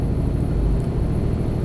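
Steady, deep diesel rumble from a Volvo VNL 670 truck with a 550-horsepower D16 engine, heard in American Truck Simulator while cruising, droning continuously and loudly with no talk over it.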